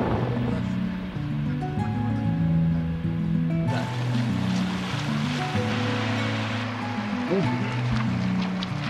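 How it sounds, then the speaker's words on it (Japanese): Ocean waves wash onto a shore in Kyushu, Japan, as a broad, continuous hiss that swells partway through, mixed under music. "波の音に引き寄せられる探検隊"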